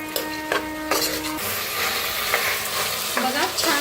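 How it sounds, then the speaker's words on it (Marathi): Peanuts, moth beans and potatoes roasting in hot oil for spiced masala rice, a steady close sizzle with scraping stirs and a few clinks of a spoon against the pan. "शेंगदाणा आणि मटकी टाकूया आता ह्याच्यातच बटाटो बी टाकूया छान असं भाजून घेऊया"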